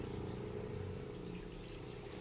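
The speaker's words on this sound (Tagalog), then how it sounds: "lagyan natin ng tubig." Water pours steadily into a cooking pot holding shells, ginger, onion and lemongrass, a continuous close rushing splash with no talking.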